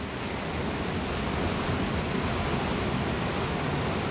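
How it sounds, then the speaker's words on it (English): Ocean waves roll onto the beach at Rosarito, Mexico, as a steady, loud, broadband wash of surf that continues without a break and with no voices. "waves are coming in hard today"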